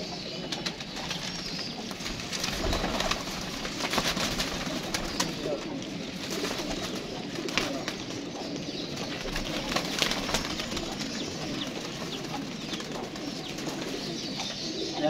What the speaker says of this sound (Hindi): जी दोस्तों इसमें 15 कबूतर डाल दिए जी